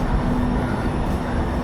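A light rail train pulls into a station on the Seattle to Tacoma line, a steady loud rumble and rolling hum with no voices.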